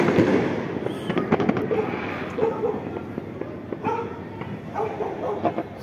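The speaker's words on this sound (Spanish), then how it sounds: "Sigue sonando la pólvora." Fireworks and firecrackers bang and crackle in scattered bursts on Christmas Eve night in Siloé, some near and sharp, others distant, while a dog barks and faint voices murmur in the background.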